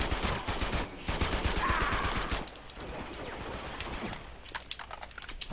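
Video game gunfire in Uncharted 2: dense rapid bursts of automatic fire for a couple of seconds, then quieter scattered shots under steady background game noise.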